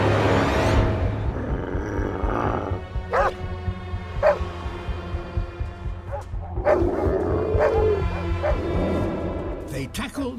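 Stray dogs bark, yip and whimper in a pack while attacking sea lions on a shore, the calls sharp and repeated at irregular intervals over continuous surf-like background noise and a voice.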